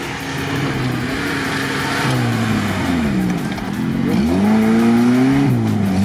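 Engines of Lada Niva off-road cars drone and rise steadily as they drive at an off-road trophy event, a continuous low rumble with shifting pitch, fairly close.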